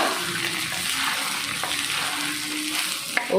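Chicken fries in a pan with a steady, close sizzle that carries on unbroken, with a brief clatter near the end.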